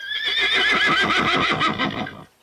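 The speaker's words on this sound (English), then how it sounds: "You got it, the horse." A horse neighs loudly and close, a long shaky whinny with a wavering pitch that trails off near the end.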